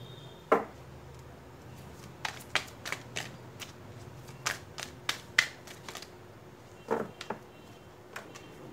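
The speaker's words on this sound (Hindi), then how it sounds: "मैं सारे कार्ड्स एक बार में निकालूंगी" Tarot cards being shuffled and drawn from the deck, heard as a series of crisp, separate snaps and flicks, some in quick bursts and others spaced apart, close and fairly quiet with no talking.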